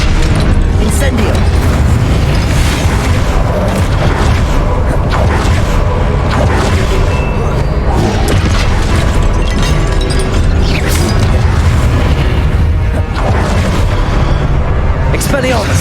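Spell combat in Hogwarts Legacy, with the Incendio fire spell cast amid a loud, continuous wash of booming blasts and crackling bursts, under voices throughout.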